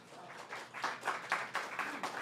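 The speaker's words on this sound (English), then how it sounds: "I appreciate you guys clapping" A small audience at a Nuyorican open mic claps in a brief, fairly faint round of applause that swells slightly then holds steady.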